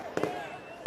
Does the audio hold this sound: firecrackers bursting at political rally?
yes